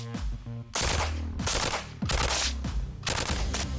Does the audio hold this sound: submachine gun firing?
yes